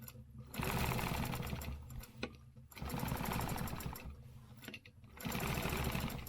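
Sewing machine stitching a stencil pattern, loud close bursts of rapid mechanical stitching broken by brief pauses, three main runs with no talk.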